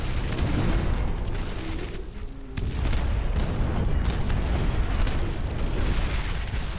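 Dense, continuous booms and gunfire in a tank video game roar loudly throughout, with a short dip in the barrage before it resumes at full intensity.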